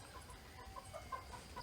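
Chickens inside a farm chicken house give faint, scattered clucks against a quiet background hum, with no voices.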